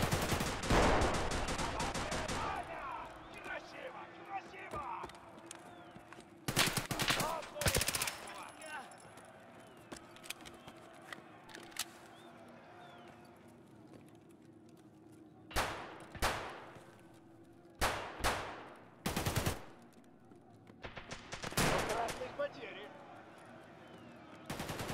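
Automatic gunfire in a video game: a loud opening burst of rapid shots, then several short, sharp bursts spaced apart, each standing out over quieter game ambience and occasional talk.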